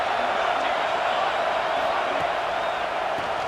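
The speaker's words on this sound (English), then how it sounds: "This crowd bringing the energy and noise early." Steady, dense stadium crowd roar in a college football video game, loud and continuous with no breaks, like a broadband wash of distant voices.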